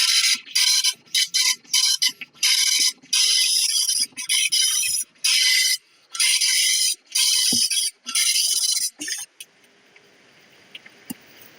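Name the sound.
computer printer printing noisily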